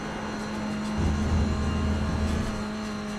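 A BMW M2 Cup race car in a racing game, its engine droning steadily as it downshifts at a corner apex, with the low rumble swelling briefly mid-clip before settling.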